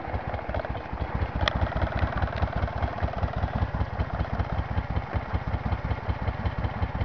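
A Moto Guzzi motorcycle engine idles steadily after starting, a loud, close, even low throbbing pulse with mechanical clatter, running alone without talk.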